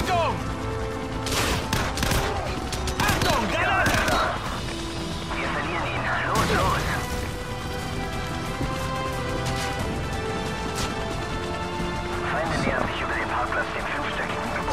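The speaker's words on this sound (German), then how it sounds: "Da oben ist jetzt so ein blödes Maschinengewehr geschützt. Wir stehen unter Beschuss durch eine befestigte Position im vierten Stock." Machine gun fire from a fortified fourth-floor position in Call of Duty 4 comes in repeated bursts and sharp cracks amid a chaotic battle, with crashes and impacts mixed in and voices talking over it.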